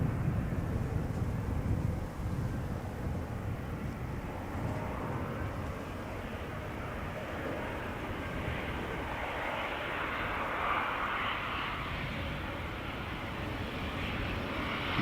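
A 15-year-old KLM airliner on a short flight back from Brussels passes at Amsterdam Schiphol Airport, its engines a steady, broad roar that holds at a fairly constant level throughout, with some wind noise and no talking.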